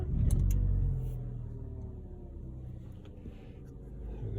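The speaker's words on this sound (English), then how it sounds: "I'm going to start the car and have a look" Vauxhall Corsa D petrol engine starting and settling into a steady idle, heard up close with a low continuous rumble.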